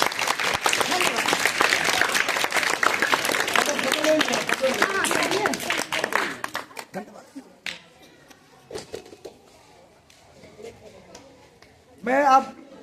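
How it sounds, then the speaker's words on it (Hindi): An audience at a children's stage performance gives a loud, dense round of applause that fades out after about six seconds, leaving scattered claps, murmurs and brief voices, with a short burst of sound near the end. "इन सभी बच्चों की अच्छे कलाकारी के लिए आप लोग तालियां बजाइए"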